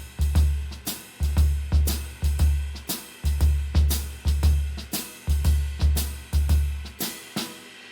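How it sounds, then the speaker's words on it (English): Drum kit playing a blues shuffle in triplet feel with a jazz ride cymbal pattern, steady repeating kick-and-snare pulses under bright cymbal strikes on every beat, loud and close, no talk. "I'm using the jazz ride cymbal pattern"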